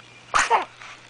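A small animal gives a quick, sharp sneeze, followed by a softer second snort, close up in a quiet room.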